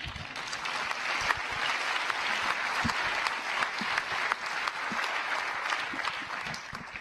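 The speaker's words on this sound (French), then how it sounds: "Vous pouvez l'applaudir." An audience at a talk on democracy and the constitution claps steadily throughout, a thick, even wash of applause with a few sharper individual claps, heard from a moderate distance.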